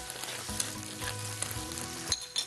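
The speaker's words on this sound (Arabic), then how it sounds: "نقلي فيهم البندوره" Tomatoes frying in a pan, a soft continuous sizzle with light stirring scrapes and small pops, fairly quiet and close, with no talking.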